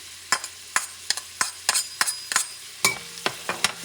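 Onions and celery sauté in a pan for Creole shrimp, with a steady low sizzle under a run of sharp, regular utensil scrapes and taps as the vegetables are stirred, close and fairly loud.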